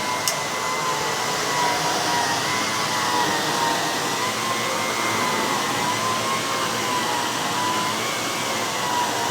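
A 1,000-watt canister vacuum cleaner runs steadily with a constant loud whine and airflow hiss, close and uninterrupted throughout.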